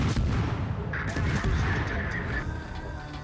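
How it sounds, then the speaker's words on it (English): HE shells fired from ship guns in the World of Warships video game, a loud dense rumble of booming cannon fire with overlapping blasts and a brief whistling tone through the middle. "Get a couple of shots into him with the HE."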